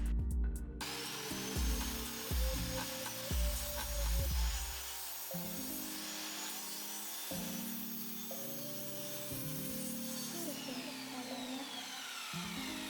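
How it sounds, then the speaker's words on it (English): Pallet boards are screwed into a garden table from underneath, with a power driver buzzing in a series of short bursts, then a longer steady whir, close by and unaccompanied by speech. "I'm screwing them in from underneath and I'm using no glue on it"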